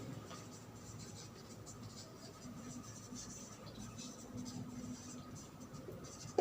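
Chalk or marker scratches steadily across a board during a physics lecture in a classroom, a faint, continuous scraping and tapping with low room noise and no clear speech.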